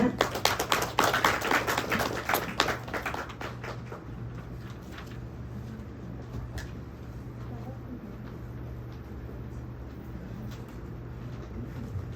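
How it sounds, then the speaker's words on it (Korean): An audience at an academic conference applauds, a dense burst of close, sharp claps that swells in the first few seconds and then fades, leaving a low steady hum of room noise. "큰 박수 부탁드립니다"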